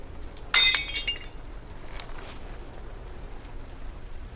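Porcelain lizard figurines smash in the game Heavy Rain: one sharp breaking crash with scattering shards and tinkling pieces, then a faint clink as the room goes quiet.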